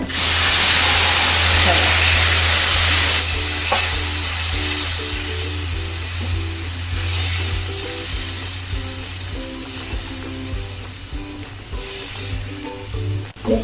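A pan sizzles and hisses steadily as a garam masala-spiced mixture bubbles, with soft stirring scrapes; the sizzle fades gradually over time.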